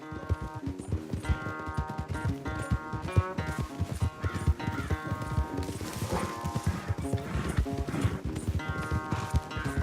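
Rapid, rhythmic hoofbeats of a galloping horse in the video game Red Dead Redemption 2 pound steadily throughout, with layered music-like tones and occasional whinnies over the clatter.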